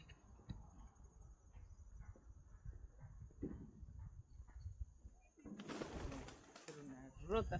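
Pigeons coo softly in a low, repeated murmur, with a sudden flurry of wing flaps and rustling toward the end.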